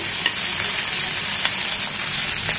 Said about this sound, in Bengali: এখন সিম আর ফুলকপিটা একসাথে 1 মিনিট ভেজে নেব।